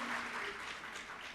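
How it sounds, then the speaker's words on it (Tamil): An audience at a Tamil debate event in Kuwait applauds, a dense, steady wash of clapping from many hands that stays even in loudness for a brief stretch. "உங்களுக்கு அத்தனை பேருடைய கைத்தட்டுமா"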